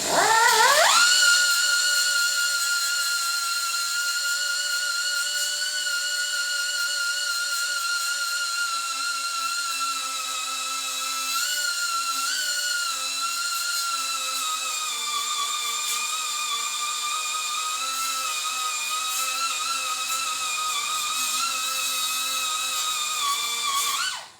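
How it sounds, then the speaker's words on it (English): An angle grinder works a weld on the sheet metal of a 1952 GMC, spinning up quickly into a loud, sustained high-pitched whine that holds steady for over twenty seconds before cutting off. "I only want to be welding the weld, or grinding the weld."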